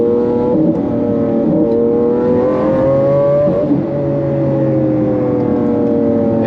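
Lamborghini Aventador LP 700-4 all-wheel-drive supercar engine held in one gear and revving hard, a loud, close, continuous roar with rising and falling pitch and a brief dip near the middle, no talking.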